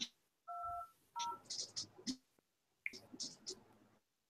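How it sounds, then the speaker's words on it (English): Telephone keypad dialing tones while placing a call: a few separate two-note beeps, each held briefly, with soft clicks and quiet murmuring between them. "So let's call to Cora here and see if we can"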